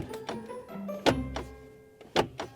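A Tesla's glove box is pushed shut, several close, hard thunks with soft clicks between them, as if the lid is pressed repeatedly without latching, with no talk.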